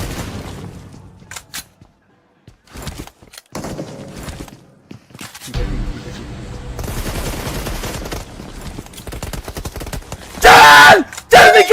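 Shotgun fire in a battle royale video game, loud sharp blasts scattered irregularly among footsteps and other game noise, ending in a dense burst of shots.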